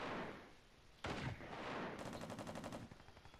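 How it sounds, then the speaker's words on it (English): Gunfire in the military shooter game America's Army: Proving Grounds: a sharp shot lands after a quiet stretch, then a rapid automatic burst rattles for about a second, fairly loud with no talk over it. "Somebody got shot downstairs."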